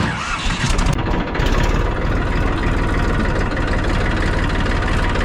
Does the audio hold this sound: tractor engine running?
yes